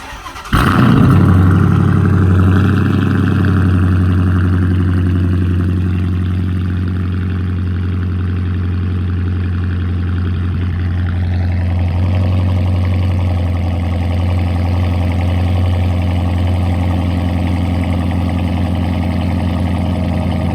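A 2009 Dodge Challenger R/T's engine cranks and fires, then settles into a loud, steady, rumbling idle with a slight rise partway through, all close by and with no talking.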